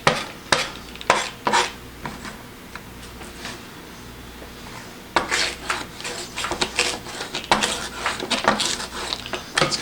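A Samurai 360 circular rolling knife slides and cuts through onions, giving repeated close scraping and clicking strokes against the board in uneven bursts, with a quieter stretch in the middle before the cutting picks up again.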